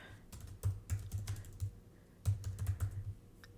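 Typing on a computer keyboard in two bursts of rapid, uneven key clicks, close and fairly quiet, with a short pause between them and no talking.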